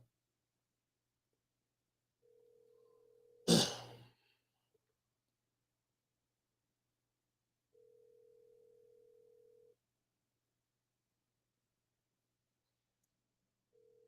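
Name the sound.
phone call ringing unanswered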